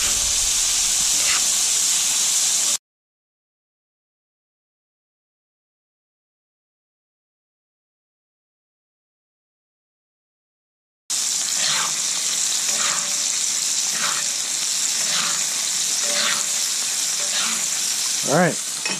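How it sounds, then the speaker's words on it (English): Steak frying in a hot pan as butter is poured over it, giving a bright, continuous sizzle and hiss with spattering crackles, broken by a long stretch of silence before the frying resumes. "taking some of this butter and pour it on there"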